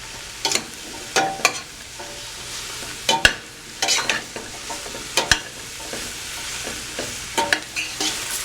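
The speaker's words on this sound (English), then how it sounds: "You can hear those onions starting to saute," Onions and broccoli saute in avocado oil in a pan, a steady close sizzle broken by repeated sharp scrapes and clacks of stirring, with no talking.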